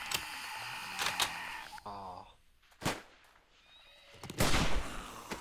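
Rifle shots in the survival video game 7 Days To Die crack out as a few sharp, isolated bursts spaced several seconds apart, with quieter game ambience and brief voices in between.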